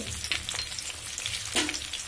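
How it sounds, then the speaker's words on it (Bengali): Chopped onion fries in a pan of hot oil with nigella seeds and slit green chillies, giving a steady close sizzle broken by a few stirring scrapes. "দেখুন, পেঁয়াজটা হাফ ভাজা হয়েছে, ফুল কিন্তু ভাজবো না।"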